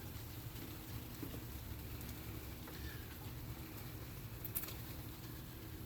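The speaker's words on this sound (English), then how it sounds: "Like I said, it's raining," Rain hitting a nursery roof produces a steady, dense patter that stays even and moderately quiet throughout, with a low rumbling background.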